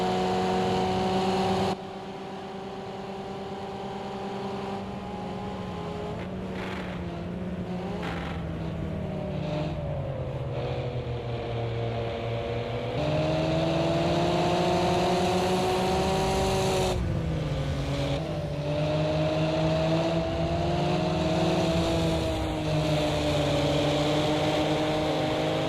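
Race car engine in the DTM racing video game at Mugello, a loud continuous roar that climbs and drops with repeated gear shifts, over-revving and early upshifts giving a sputtering, farting tone between steady high-rpm pulls.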